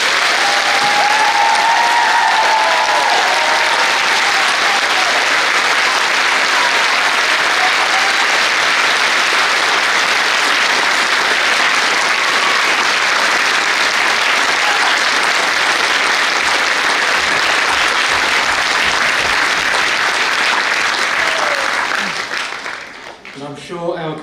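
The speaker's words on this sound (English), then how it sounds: "please join me in applauding our graduates" A large audience at a 2018 graduation ceremony applauds the graduates in a sustained, dense wash of clapping that fills the hall for over twenty seconds before tapering off at the end.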